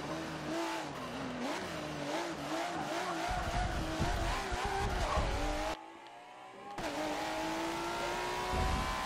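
Acura NSX in Forza Motorsport 7 on a track day, its engine revving hard up to redline with rising harmonic whine and brief tire squeal, cutting out for a moment around a shift before climbing again, loud and continuous.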